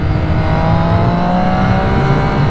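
A Triumph Street Triple R motorcycle accelerates hard in second gear, its engine note loud and close with a steady, high-revving drone alongside rushing wind.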